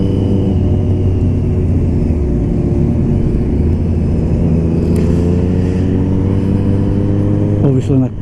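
A motorbike engine rides along in a convoy of bikes, a loud steady close-up drone and road rumble with shifting engine tones, wind noise and a voice speaking over it.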